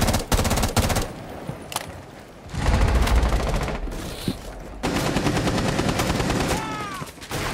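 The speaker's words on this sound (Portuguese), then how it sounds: "Eu tô só ouvindo tiros e mortes e gritos." Rapid automatic gunfire and single shots crackle in bursts during a Rainbow Six Siege match, loud and dense, with short lulls between volleys and faint game effects in the background.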